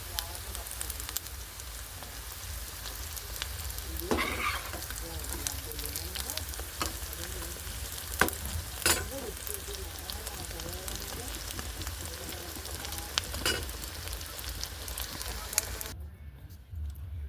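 Chicken cutlets fry in hot oil with a steady, dense sizzle throughout, broken by a few sharper crackles and spits, before the sound cuts off abruptly near the end.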